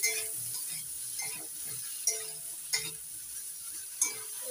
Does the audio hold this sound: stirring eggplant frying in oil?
yes